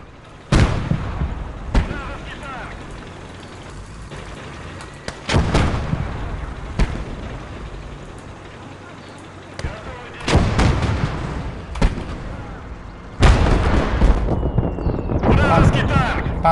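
Tank cannon fire in the World War II video game Gates of Hell, a series of heavy booming blasts at irregular intervals, some near and loud, others duller, with someone talking between them.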